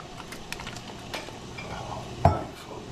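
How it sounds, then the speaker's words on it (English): Pieces of fish going into a pot of cioppino seafood stew with parsley: soft clinks and stirring knocks against the pot, ending in one sharper near splash-thud, no talk. "I'm going to put the fish directly in the soup"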